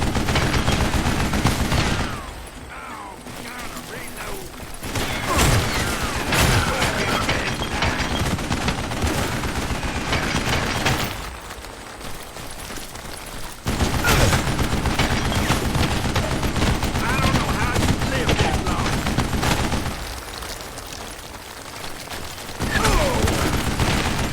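An old man firing a mounted gun in the Western shooter Call of Juarez: Gunslinger, with long sustained bursts of loud, dense gunfire broken by brief lulls.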